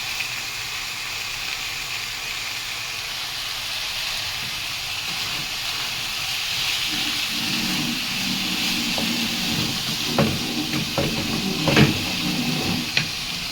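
Food fries in a pan on a gas stove and is flipped and salted. A steady, moderate sizzling hiss fills the whole stretch, with a few sharper pops and spatters toward the end.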